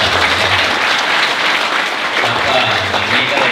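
Audience at the opening of a school drug-prevention training event bursts into sustained applause, steady clapping throughout with a voice talking over it.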